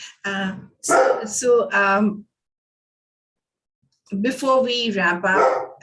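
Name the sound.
dog barking in the background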